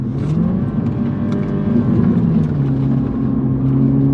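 An entry-level Toyota GR Supra 2.0 accelerates away, its four-cylinder engine droning steadily and rising in pitch through the revs, heard close from inside without any talking.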